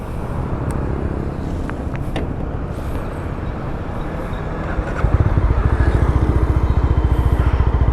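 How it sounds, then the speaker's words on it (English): A 2021 BS6 Mahindra Mojo 300 motorcycle starts up from a low background rumble and settles into a loud, steady, pulsing idle close by. "Let's start the engine."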